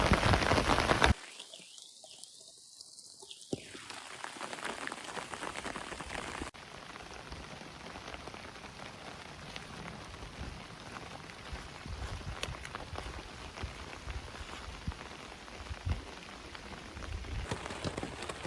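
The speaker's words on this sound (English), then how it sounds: "It's raining pretty hard and it's very windy." Heavy rain pours down on a windy hiking trail, a dense, steady hiss of drops striking the ground and surfaces, with a short muffled stretch early on before the full downpour returns, loud and continuous without speech.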